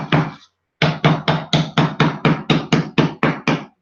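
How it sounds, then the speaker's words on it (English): A hammer strikes down the pieces on a homemade bead board, a single knock followed after a short pause by eleven or so sharp, evenly spaced blows in a steady rhythm, close and loud with no talking. "we're going to take our hammer. We're going to hammer all of these down."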